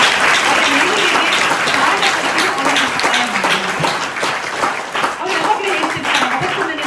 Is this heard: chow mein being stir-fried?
no